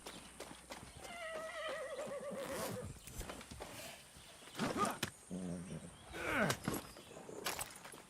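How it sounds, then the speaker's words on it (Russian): A horse in the Far Cry 6 video game lets out several whinnies and snorts, close and clear, with hooves clopping and other game sounds scattered around it. "Это мой конь?"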